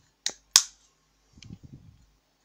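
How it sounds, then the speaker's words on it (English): Two sharp plastic clicks snap in quick succession as an action camera is inserted into a GoPro mount, followed by softer rattling and fumbling as it settles into place. "I will insert the camera inside the GoPro mount to see it is full compatible"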